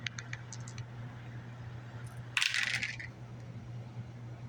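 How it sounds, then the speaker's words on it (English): Two six-sided dice and a scatter die are rolled during a Bolt Action tabletop wargame, giving a short burst of rattling clatter on a hard surface amid quieter clicks and a steady background hum. "2d6 and a scatter dice."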